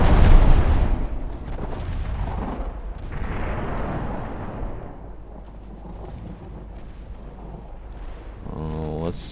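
Warship guns in a naval strategy video game fire armor-piercing shells, starting with a heavy boom that decays into a long rumbling roar, followed by further rolling blasts.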